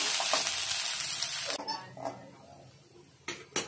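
Okra sizzling as it fries in oil in a pan while cooking a fasting-day vegetable dish; a steady close hiss for about a second and a half, then quieter crackling with a few stir or utensil clinks near the end.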